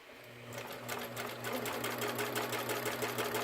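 A serger sewing machine hums at high speed, its rapid mechanical whir starting up and then running steadily, fairly quiet and close.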